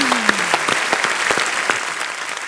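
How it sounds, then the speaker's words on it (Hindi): Studio audience at a comedy talk show bursting into enthusiastic applause, dense sustained clapping with individual sharp claps standing out, near and loud throughout. "जोरदार तालियां एक बार मनोज भाई और तापसी के लिए."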